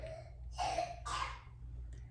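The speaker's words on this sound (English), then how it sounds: "hear my baby coughing." A baby recovering from strep throat and RSV gives two short, breathy coughs in a row, fairly close, over a low steady hum, with a faint third sound near the end.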